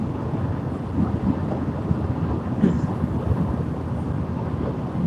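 Low, rolling thunder from thunderstorms ahead on a Pennsylvania road trip, a continuous deep rumble heard from inside a moving vehicle with steady road and wind noise underneath.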